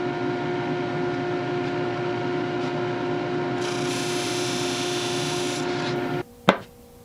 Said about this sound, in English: under the drum of my drum sander and very carefully and slowly sand that taper into the edge